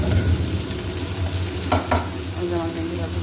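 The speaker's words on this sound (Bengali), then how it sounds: "বেশি করে পেঁয়াজ দিয়ে আমি এভাবে ভেন্ডিটা ভাজি করি" Okra fries with plenty of onions in a pan, giving a steady close sizzle with a few stirring scrapes and clatters partway through and no speech.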